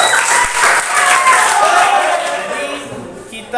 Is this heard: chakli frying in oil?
no